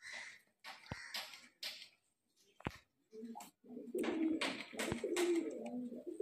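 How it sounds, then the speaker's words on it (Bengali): Murshidabadi Giribaz pigeons, a high-flying backflip breed, give low throaty coos that grow steadier in the second half, mixed with wing flaps, scuffs and a few sharp clicks close by, with no talking. "এই যে ফ্রেন্ডস দেখতে পাচ্ছেন মাদি পায়রাটা চোখের লাইন, খুব সুন্দর কোয়ালিটির পায়রা।"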